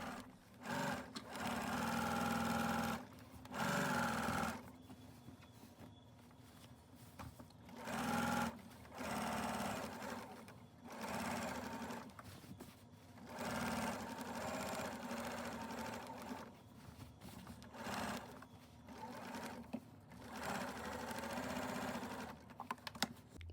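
Sewing machine stitching a whole cloth quilt, rapid mechanical chatter in repeated runs of a few seconds with short stops between, steady and close with no talk.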